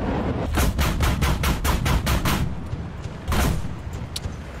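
Rapid cannon fire from a Swedish 40mm gun in War Thunder, a burst of about eight sharp evenly spaced shots, then a pause and one more heavy blast, loud and close.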